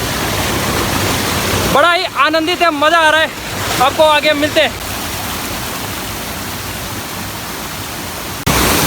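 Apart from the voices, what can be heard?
hidden waterfall in Rohini, Kurseong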